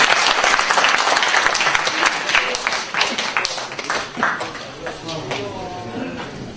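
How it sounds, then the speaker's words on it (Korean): Renewed big round of applause from a community meeting audience, dense clapping that thins toward the end as a voice begins talking over the fading claps. "네, 큰 박수 한 번만 다시 쳐주십시오."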